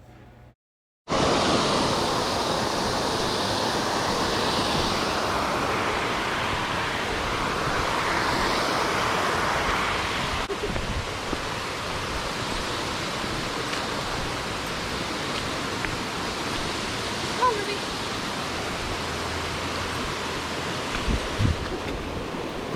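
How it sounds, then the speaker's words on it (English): A slow runoff creek in Savage Gulf, Tennessee, flows as a steady, broad rushing wash close to the microphone, unchanging for about twenty seconds, with a few faint knocks near the end. "This is a slow run off creek coming up to"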